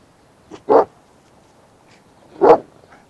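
Dogs barking outdoors in two short bursts, a quick pair of yaps followed after a pause by a louder single bark, fairly close with quiet gaps between.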